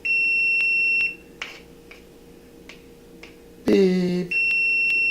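An oven timer beeps in a home kitchen while a cheesecake crust bakes, loud sustained electronic tones at the start and end, with quieter clicks and a brief burst of voice in between.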